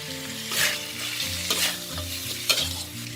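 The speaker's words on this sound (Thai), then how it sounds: "เดี๋ยวเราจะมาเคี่ยวกับเครื่องแกงค่ะ" Pork cartilage simmers with Thai curry paste in a pan, a low sizzle with a few stirring scrapes over a brief stretch.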